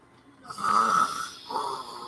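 A person imitates snoring with two drawn-out, nasal rasping breaths, close and clear, the first longer and louder than the second.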